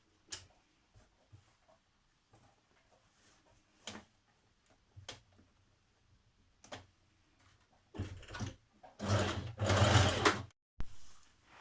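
A domestic sewing machine runs short bursts of stitching, attaching armhole binding with a 6mm seam on a Simplicity 8560 sports bra top, quiet ticks and pauses first, then a louder sustained run near the end.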